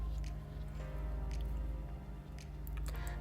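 A brush spreads a PVA glue and water mixture over tea bags, making soft wet squishing and dabbing sounds, close and quiet over a low steady hum.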